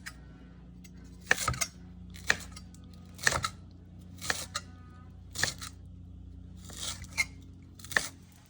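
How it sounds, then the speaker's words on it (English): Fresh dill being cut for a salad, heard as a series of about seven crisp, crunchy cuts, roughly one per second, fairly faint over a low background hum. "Now we're going to cut the dill for the salad."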